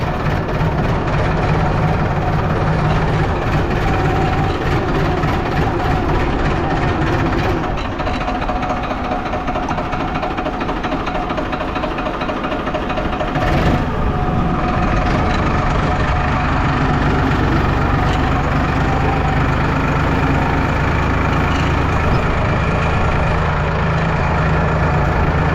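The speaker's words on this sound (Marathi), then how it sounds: "आता ट्रॅक्टर चालूया." A tractor engine runs at idle: a loud, close, continuous low rumble with a steady throb throughout, without pause.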